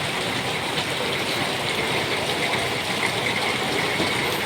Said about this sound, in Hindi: फुल बारिश का चल रहा है शोर।